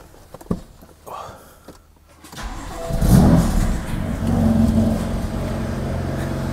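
BMW F80 M3 engine turning over on a cold start and catching, then settling into a loud, rough warm-up idle with a surge of revs, close by after some light clatter and footsteps.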